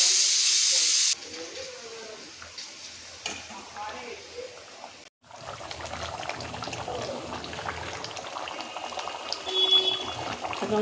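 Eggs added to a simmering curry in a pot, a soft continuous bubbling and hiss with a few stirring clatters, close by and moderately loud after a brief sharp hiss at the start.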